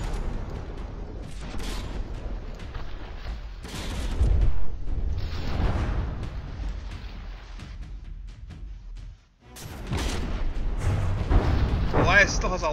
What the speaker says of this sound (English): Pumping some shells into the deck of the Goliath there.